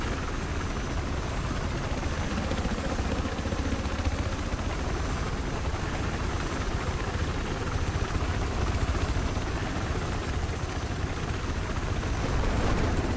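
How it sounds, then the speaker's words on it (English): An attack helicopter in Battlefield 4 roars steadily and loudly throughout, a dense continuous rotor and engine drone with no pauses and no talk over it. "they got an attack chopper behind us"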